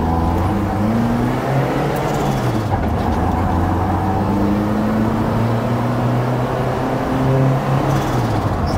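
A 1987 Toyota Hilux RN50 drift pickup with a turbocharged engine drives along, its engine drone rising and falling steadily through gear changes as the road noise stays close and continuous.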